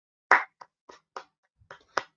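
A single person claps hands sparsely and close, with about six dry, uneven claps spread over two seconds and silence between them.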